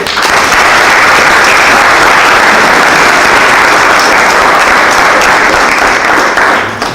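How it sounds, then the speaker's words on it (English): Loud, dense audience applause at an agreement signing for a Lions Club children's visual impairment project, sustained steady clapping for about seven seconds before tapering off. "I need one applause for this very"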